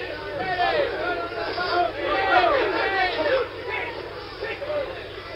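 A boxing crowd at a Jimmy Ellis versus Joe Frazier fight keeps up a steady, dense roar of overlapping shouts and chatter, loud and continuous throughout, with individual voices calling out above the general din.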